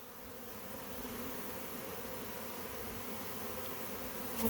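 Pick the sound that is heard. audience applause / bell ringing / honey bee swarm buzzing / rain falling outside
honey bee swarm buzzing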